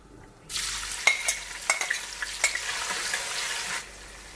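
Two medium onions sizzle loudly as they hit hot oil, with a spoon scraping and stirring through the steady frying hiss, which then suddenly stops.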